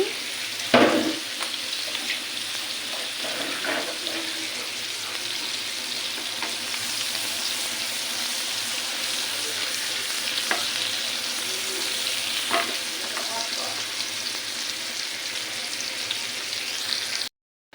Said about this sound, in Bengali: চিংড়ি মাছটা ভাজি বসিয়ে দিয়েছি।